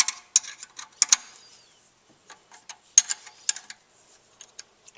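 A wrench works the alternator adjustment bolt loose on a 1995 Suzuki Sidekick, giving close, crisp metallic ratchet clicks in short irregular bursts separated by quiet pauses.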